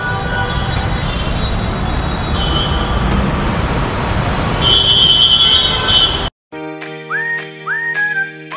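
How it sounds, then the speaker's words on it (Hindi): Metro train at a Jaipur metro station: a loud, steady rumble of the arriving train fills most of the clip, then cuts to a quieter stretch with a few ringing chime tones. "लो भाई पहुँच गए मेट्रो स्टेशन।"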